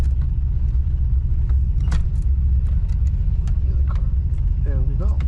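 A Ford Mustang Fox body car idles and rolls slowly into a parking spot, its engine a steady low rumble close by, with faint clicks and a short voice near the end.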